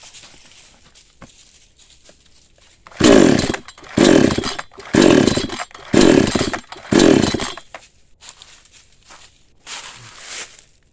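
A new chainsaw's small engine is pulled over five times in a row without starting, each pull a loud rough burst, followed by quieter rustling and faint knocks.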